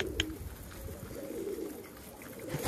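Pigeons coo softly in a low, throaty murmur, with faint wingbeats and rustling nearby against a steady outdoor background.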